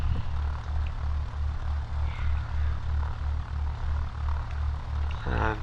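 A small propeller airplane powers up for takeoff from a small airport near Spokane, Washington, on an early morning VFR flight. The loud, steady engine drone is heard close up and pulses with a regular beat throughout, with a brief voice near the end.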